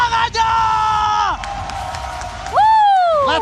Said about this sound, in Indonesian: Sonic seluruh Indonesia, mana tepuk tangannya?